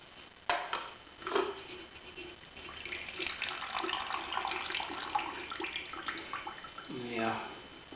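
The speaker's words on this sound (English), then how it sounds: "So our next step is to drain the liquid off here." Liquid is drained off a pot of sweet tomato relish after about four hours of cooking, giving a continuous soft pouring and trickling wash with light clinks of cookware, fairly quiet and steady throughout.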